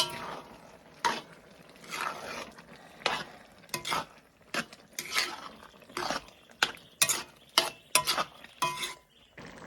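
Pumpkin being stirred with sugar in a cooking pot, giving a string of scraping, clacking utensil strokes against the metal, about a dozen bursts in uneven rhythm, close and fairly quiet with no talking.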